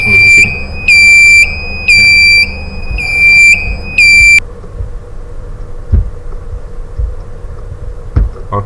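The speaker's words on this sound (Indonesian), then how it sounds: "Continuous sound alarmnya berbunyi terus menerus di sini." A ship's navigation alarm sounds a loud, piercing electronic tone in five evenly spaced bursts, then cuts off, leaving a quiet low hum broken by a few faint knocks.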